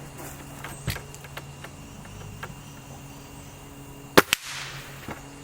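A Gamo Magnum .22 pellet air rifle fires in a quiet outdoor spot, with a couple of sharp close cracks in quick succession and fainter ticks and clicks scattered across low background noise.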